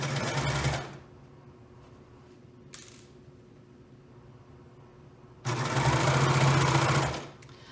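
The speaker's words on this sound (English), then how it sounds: "You'll notice that I also have my serger blade disengaged to make a perfect, and I do that to make a perfect 1/4 inch seam allowance." A serger with its blade disengaged stitches a quarter-inch seam allowance in two loud motor bursts, one short at the start and a longer run near the end, separated by quiet and a brief click.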